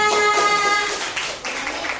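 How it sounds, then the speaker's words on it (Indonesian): A classroom audience claps for a student group, brief scattered clapping mixed with a sustained musical tone and some background chatter, loud and close. "Tepuk tangan untuk kelompok Indonesia."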